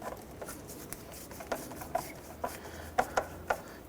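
Hose clamps being snugged down on the upper intake tube of a 1993-1997 Ford Ranger, heard as faint scraping and a few soft clicks, growing sharper toward the end over a quiet background.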